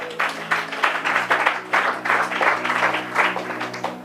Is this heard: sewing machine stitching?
no